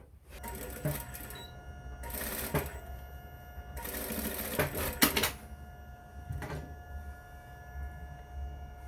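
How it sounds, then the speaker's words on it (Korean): A sewing machine running a long straight seam on a fabric dart bag, in several steady bursts of stitching with short pauses between, fairly quiet and close, with no talk. "이렇게 펴서 쭉 박음질을 하실 거예요"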